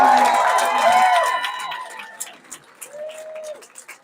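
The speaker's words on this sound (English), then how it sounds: "let's give him a round of applause" An audience at an election night watch party for the Colorado Democrats applauds and cheers at close range, loud at first and then thinning into scattered claps, with voices in the crowd.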